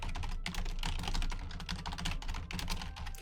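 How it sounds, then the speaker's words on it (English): Fingers type steadily on a computer keyboard in a dense run of quick, soft clicks. The keystrokes come close-up and continuous, with no voices. "Keyboard ASMR."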